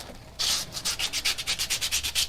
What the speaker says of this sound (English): I'm happy with my sanding.